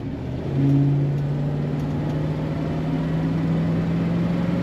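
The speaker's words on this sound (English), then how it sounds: "Nice smooth running car, started easily." A 1964 Ford Thunderbird 2-door hardtop engine running smoothly, a steady low idle hum that rises briefly near the start and then settles into an even, continuous drone, close and alone.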